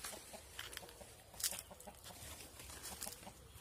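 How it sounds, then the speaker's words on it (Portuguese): Chickens cluck in a backyard coop on a small farm, soft repeated clucks and chirps scattered through the clip, faint and somewhat distant, with no talk over them. "E aí tá minhas galinhas, ó."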